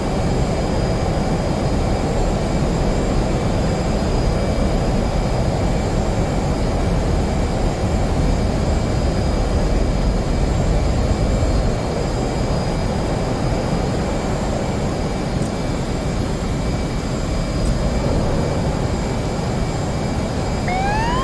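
F/A-18 Hornet jet engines spooling up in the DCS World flight sim: a steady, loud roar with broad noise and high whining tones that hold, then a rising whine near the end. Close and continuous, with no voices.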